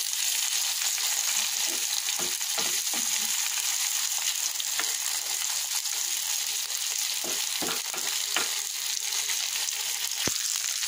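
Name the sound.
onions being stirred and fried in a pan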